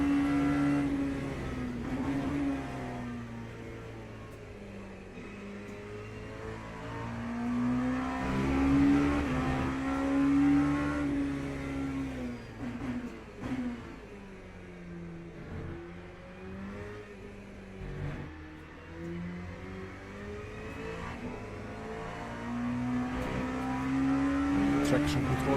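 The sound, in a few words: race car engine in Le Mans Ultimate racing video game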